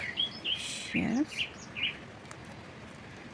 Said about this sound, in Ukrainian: Соловейко у мене сьогодні як співає гарно.